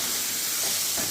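Ivy gourd sautés in a pan with chilli and turmeric powder, giving a brief, steady hissing sizzle at moderate loudness with no voices.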